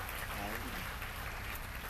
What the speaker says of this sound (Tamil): மீண்டும் நம்ம ஒரு நல்ல கைத்தட்டல் கொடுத்து